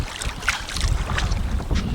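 Wind buffets the microphone while waves slosh against a small fishing boat off New York in rough, hurricane-driven weather; a continuous, noisy roar with no talking.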